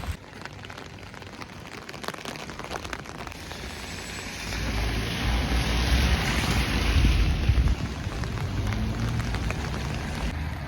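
Rain falling outdoors in England, a dense hiss of drops striking surfaces that swells louder partway through, with a low rumble underneath and nobody speaking.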